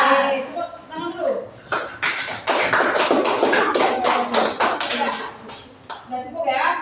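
A classroom audience claps after a student group's presentation, with dense, sharp hand claps building to a steady burst in the middle and then thinning out, while voices talk over the clapping.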